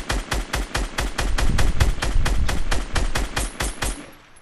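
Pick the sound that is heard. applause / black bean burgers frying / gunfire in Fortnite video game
gunfire in Fortnite video game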